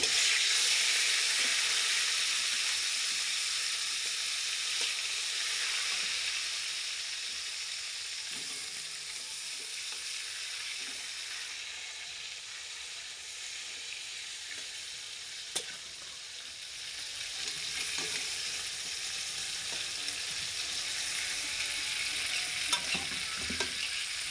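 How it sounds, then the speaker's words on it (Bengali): Steady, dense sizzling of rohu fish pieces frying in hot oil, continuous throughout with a few light clinks and scrapes of a utensil, no voices. "বাকি মাছগুলোও ভেজে নেবো"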